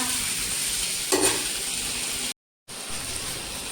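Chicken with grated coconut being stirred in a frying pan for Kerala-style chicken perattu, a steady broadband sizzle with a brief scraping stir partway through, then a short cut of silence before the frying hiss resumes.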